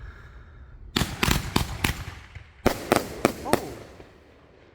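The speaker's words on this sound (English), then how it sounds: "it's finally time to light off Kiss of Death by smoking alien fireworks" Kiss of Death 23-shot fireworks cake by Smoking Alien fires outdoors, a rapid series of sharp loud bangs in two clusters, with a brief exclamation from a person.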